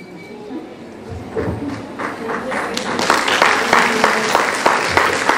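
Audience at a women's empowerment gathering in Hanumakonda, Warangal, breaking into applause that builds from scattered claps into steady, loud clapping, with voices talking underneath.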